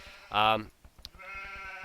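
A sheep in an Age of Empires II match gives a single short bleat, followed by a faint clatter and a second drawn-out bleat, heard close and clear.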